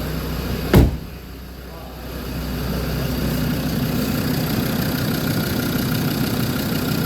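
A Land Rover Discovery 2 engine idles steadily and close up after a brief knock, its low continuous rumble filling the rest of the clip; the alternator is dead.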